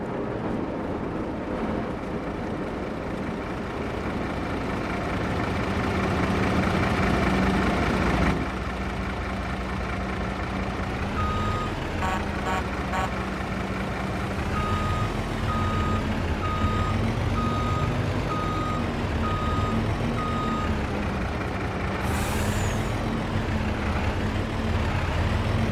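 A truck in Farming Simulator 25 idles with a steady engine rumble while a reversing alarm beeps in even, repeated pulses, loud and close, with gameplay sounds around it.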